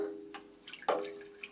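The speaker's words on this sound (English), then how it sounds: "Pour in 2 cups of heavy cream." Heavy cream is poured into a stainless steel KitchenAid 6 Qt Professional 600 mixer bowl, giving a brief soft liquid splash and trickle close by over a faint steady hum.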